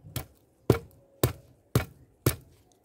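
Soil being tapped down in a plant pot after transplanting a spider plant: five evenly spaced, sharp thuds about half a second apart, close and distinct against near silence.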